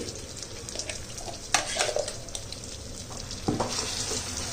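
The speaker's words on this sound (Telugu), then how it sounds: "రెడీ చేసి పెట్టుకున్న చింతకాయ పచ్చడిని ఈ తాలింపులో వేసి బాగా కలుపుకోవాలి" Tamarind chutney being stirred into a hot tempering in a pan, giving a steady close sizzle with scraping stir strokes and a couple of sharper clatters, no voices.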